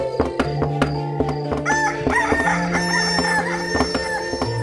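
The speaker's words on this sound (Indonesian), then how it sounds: "Memukul alu kelesung hingga membuat ayam jantan berkokok." Rooster crowing over a musical backdrop with rhythmic pounding like a pestle striking a mortar, the long crow rising prominently midway, with steady beats and tones underneath.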